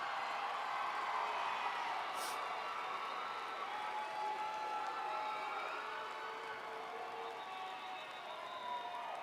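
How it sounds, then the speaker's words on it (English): A crowd applauds graduates at a Southeast Missouri State University commencement ceremony with steady, fairly distant clapping that carries on for several seconds and slowly fades a little. "give them a round of"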